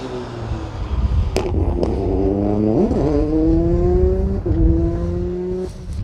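A Peugeot rally car on a stage of the Colin Ellmore Memorial Rally runs down the back straight, its engine loud and close with rising and falling revs through gear changes and a brief lift mid-run.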